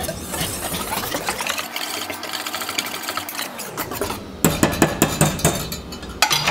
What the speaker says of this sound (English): Give that a nice whisk,